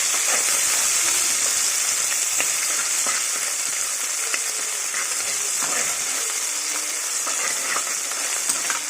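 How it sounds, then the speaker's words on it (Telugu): Cumin frying in a pan with ginger-garlic paste and mint for jeera rice, a steady broadband sizzle with scattered stirring clicks, close and continuous throughout. "ఇలాగా కొద్దిగా ఫ్రై అయిన తర్వాత అల్లం వెల్లుల్లి పేస్ట్, పుదీనా వేసుకుందాం. కొద్దిగా ఇలాగా కలపాలండి."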